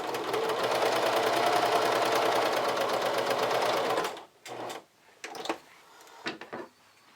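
A sewing machine stitches fabric in a loud, continuous close-up whir for about four seconds, then stops, followed by scattered bumps and handling sounds.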